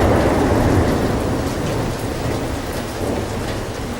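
Heavy rain and storm noise from a brutal Atlantic storm of 1877 at sea, a steady dense roar of downpour with rumbling thunder mixed in, loud and continuous throughout with no voices.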